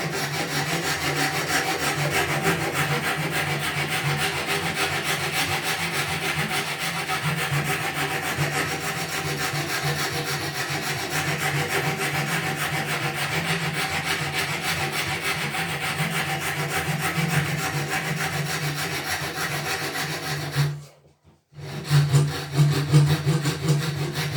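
Steady back-and-forth rasping of a hand tool on wood while a guitar neck is shaped and material is removed, continuous close strokes with a brief pause near the end before the rubbing resumes.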